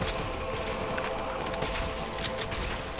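Gunfire from the video game Rise of the Tomb Raider rattles through a steady, dense mix over about three seconds, with a few sharper bursts standing out against continuous game noise.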